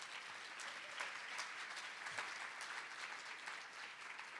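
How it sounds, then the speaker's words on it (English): Audience applause at a public art preconference welcome session, a steady wash of clapping from many hands in a hall, moderately distant and sustained without talk. "and I'd like to ask for a round of applause."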